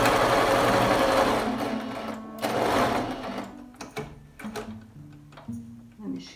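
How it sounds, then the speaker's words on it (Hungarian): A household sewing machine stitches a fabric face mask in a loud continuous run, pauses briefly, then resumes in shorter stop-start bursts as a voice speaks nearby. "nem nagyon szoktam háztartási varrógéppel varni"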